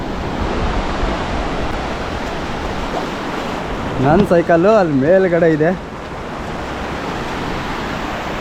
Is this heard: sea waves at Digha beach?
yes